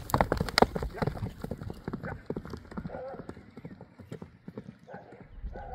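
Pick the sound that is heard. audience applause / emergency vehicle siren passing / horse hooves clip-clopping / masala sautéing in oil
horse hooves clip-clopping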